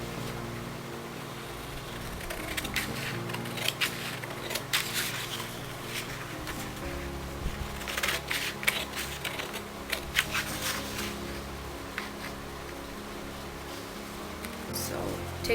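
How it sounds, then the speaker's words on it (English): Fabric folded in layers being cut for a frock bodice, with a run of crisp, irregular snipping clicks close by, moderately quiet and steady throughout. "So I'm going to cut this bodice."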